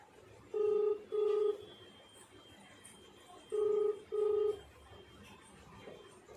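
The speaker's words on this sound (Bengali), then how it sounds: "দিলুকে ফোন করে এবার জ্বালায়" Telephone keypad tones as a number is dialed: two pairs of short, clear beeps with a pause between the pairs, fairly faint over a quiet background.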